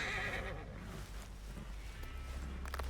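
A horse neighs and whinnies in a video game amid noisy game sound, with a clip-clop of hooves and a busy, loud mix behind it.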